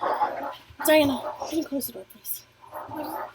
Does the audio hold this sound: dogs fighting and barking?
yes